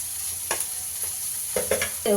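Masala with turmeric fries in a pan over a soft, steady sizzle, punctuated by a few sharp scrapes and clinks of a spoon stirring against the pan.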